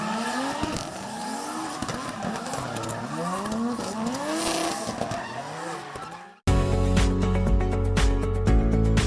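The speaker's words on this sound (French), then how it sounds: "Les vrombissements des moteurs et les gros cylindrés ont séduit petits et grands." Big-displacement cars roar and rev at a motor event on Mauritius, with repeated rising engine sweeps and tire skids, loud and continuous, before cutting abruptly to music for the last few seconds.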